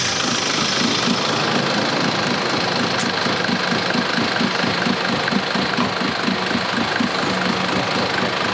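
A car engine idles steadily at a mechanic's garage in Pathum Thani, Thailand, a close continuous rumble with a regular pulsing rhythm and no talk.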